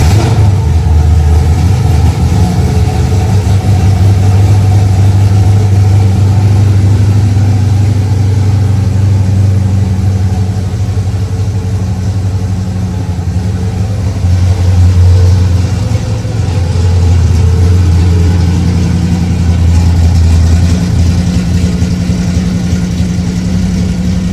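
A Coyote-swapped classic Mustang fastback with a new exhaust rumbles loud and close throughout, a deep steady idle swelling into revs and settling back, with no talk over it.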